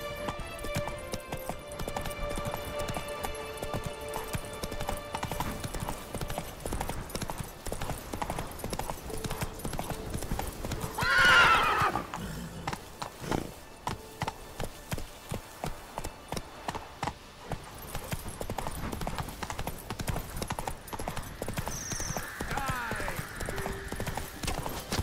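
Roach, the horse in The Witcher 3, runs with rhythmic, continuous hoofbeats and lets out a brief neigh midway, with game ambience and occasional talk over the galloping.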